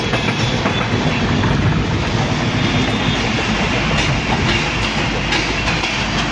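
A train rolls into Bharuch railway station with a loud, continuous rumble and rattle of wagons, steady throughout with no voices over it.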